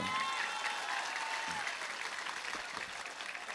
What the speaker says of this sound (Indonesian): Tepuk tangan untuk Wongsorejo